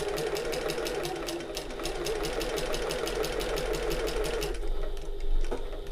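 A sewing machine stitches a shoulder bag, its needle hammering in a fast, steady mechanical rhythm that stops abruptly near the end, leaving a brief quiet thump.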